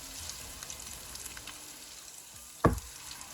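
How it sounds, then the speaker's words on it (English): Diced small onion sautéing in oil in a pan for curry chicken, a soft steady frying sizzle that stays faint throughout, with one brief louder clatter near the end. "I'm just going to saute that for a little bit."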